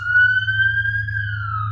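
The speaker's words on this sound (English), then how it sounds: "The siren." A steady siren tone wails, rising slowly and then dipping, over a low constant hum, loud and close.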